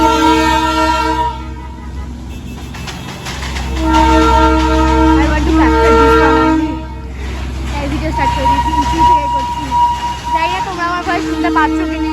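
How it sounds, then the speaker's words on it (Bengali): Heavy vehicle horns on a hill road, a loud sustained honk with a deep rumble underneath, then shorter tonal blasts overlapping as traffic passes nearby, with voices heard over it. "এখানে প্রচন্ড পরিমাণে হর্ন দিচ্ছে"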